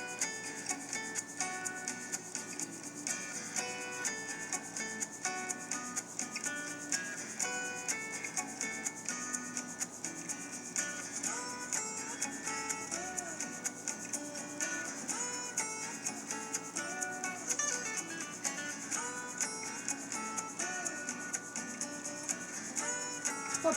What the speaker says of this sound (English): we're going to use my favorite tool, a straight edge razor blade. And we're going to go with the grain.